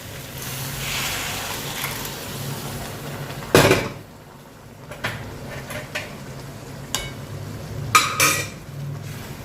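Water and the remaining rajma ingredients going into a cooking pot, with clanking metal utensils, a splashy pour, scraping and knocks against the pot, moderately close, gentle sizzling underneath.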